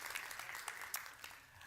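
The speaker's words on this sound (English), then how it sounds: "Can we have a round of applause for the British Council, please?" An audience applauds at a conference session on the creator economy and creative industries, a faint, steady patter of clapping with a few sharper claps standing out, heard from a distance.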